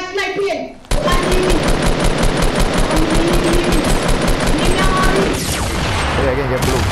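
In Fortnite, loud rapid gunfire crackles nearby in a sustained, evenly pulsing burst of shots lasting several seconds, with a player's voice speaking over it.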